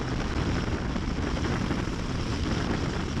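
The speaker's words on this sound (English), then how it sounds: "I don't know how much of that exhaust you can hear" A continuous low engine roar with rumbling exhaust drones steadily throughout, loud and close, from a 2015 Yamaha Star Raider 1900 Bullet Cowl motorcycle under way.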